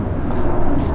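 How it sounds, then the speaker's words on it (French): Low, steady rumble of an airplane passing overhead beneath an overcast sky near an abandoned ghost village, a continuous droning drone under faint background sound. "un avion qui repasse"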